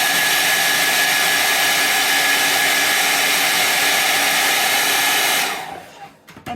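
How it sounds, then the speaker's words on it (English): A handheld hair dryer blows steadily and loudly at close range, drying paint on a resin piece, then cuts off near the end, leaving a few faint handling knocks. "So I use my hair dryer a lot"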